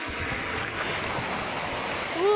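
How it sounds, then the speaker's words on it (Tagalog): Strong waves wash at an outing spot in Norzagaray, Bulacan, a broad rushing surge of water heard close and continuous, with a voice briefly rising near the end. "Ay, lakas ng alon."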